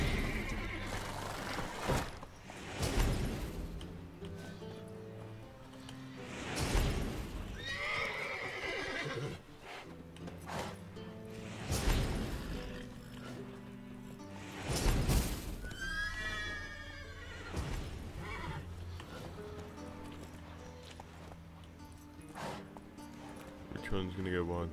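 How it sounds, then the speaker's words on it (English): Horses in The Witcher video game whinny and neigh repeatedly in loud bursts, with clip-clopping hooves and game music underneath and someone talking between the calls. "Calm the horses."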